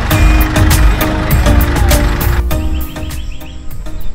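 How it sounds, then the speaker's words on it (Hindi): A tractor engine chugs loudly and steadily throughout, carrying passengers along a road toward Sariska Palace, with rattling and clanking over the continuous drone and no talk. "आज हम लोग ट्रैक्टर से जा रहे हैं।"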